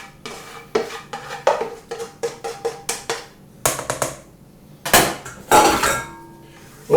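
Prawns going into a pan for seafood pasta with a honey, pistachio and cheese sauce, heard as a run of sharp metallic clinks and clatters, then louder bursts of sizzle and pan scraping near the end, with no talk.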